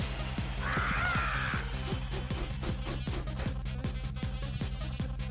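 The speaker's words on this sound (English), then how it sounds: "Loud bird." A loud bird squawk from the video game Dicey Dungeons, a harsh cawing cry early on over a steady, rhythmic thumping game music loop that carries on alone afterward.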